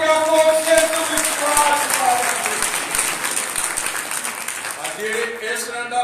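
Congregation at a Sunday village church service in Triza Nagar applauding, steady dense clapping throughout with a voice speaking over it, loud and close.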